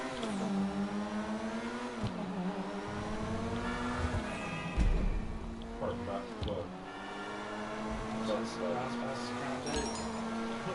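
A Chevrolet Silverado pickup truck cruises along a freeway, its engine holding a steady droning hum with shifting tones while people talk inside the cab throughout.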